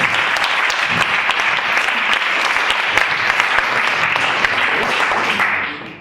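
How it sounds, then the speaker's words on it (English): A large workshop audience breaks into loud, sustained applause, a dense wash of many hands clapping that holds steady and then tapers off at the very end. "Big round of applause."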